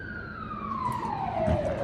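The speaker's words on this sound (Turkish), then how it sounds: "Bence bu itfaiye sesi." A fire engine siren wails with a long, steadily falling tone, loud and fairly close, over a low rumble of traffic.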